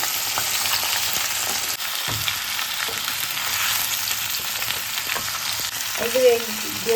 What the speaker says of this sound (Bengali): দেখো তেল দিয়ে দিচ্ছি, সর্ষের তেল দিয়ে হালকা করে নাড়বো